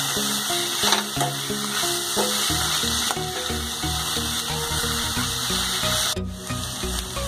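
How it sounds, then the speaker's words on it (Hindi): Tofu and capsicum masala sizzles and fries steadily in a pan over a high flame, a continuous close crackle with occasional stirring scrapes. "और इसे थोड़ी सी फ्लेम को तेज करके अच्छे से भून लेंगे, 1 मिनट भून लेंगे।"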